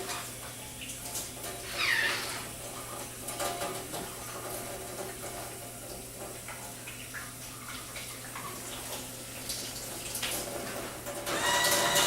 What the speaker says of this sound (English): First off, I'll wash my hands.